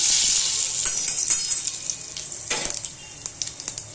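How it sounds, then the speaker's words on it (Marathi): Mustard seeds splutter in hot oil with a little turmeric in a pan, starting as a loud hissing sizzle that eases into sharp, scattered crackles and pops. "मोहरी एकदम तडतडून दिली आहे."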